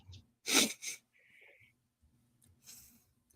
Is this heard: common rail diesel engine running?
no